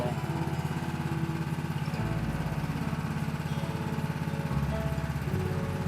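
A coconut pressing machine's engine runs steadily for the whole stretch, a loud, even mid-pitched mechanical drone with a slight pitch shift partway through and no talk over it.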